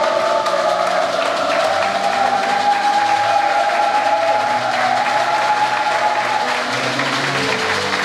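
A church congregation at a service applauding loudly and without a break for several seconds, dense clapping filling the room, with a faint tone sustained underneath and no clear speech.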